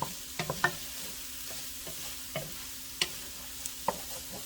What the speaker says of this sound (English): just going to give them a little stir